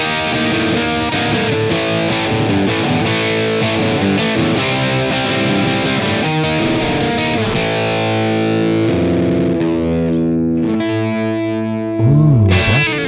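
A Fender Player Jazzmaster electric guitar with humbuckers playing through heavy distortion and effects, with a dense, sustained wall of chords that thins out near the end into swelling, warbling effect sounds.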